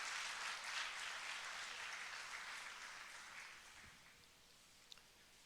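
A church congregation applauding together, a broad wash of steady clapping that slowly fades out, heard from a little distance.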